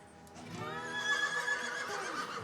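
A horse gives a clear, drawn-out whinny that rises and wavers for about two seconds, close and fairly loud, with a soft low rumble beneath and no talking.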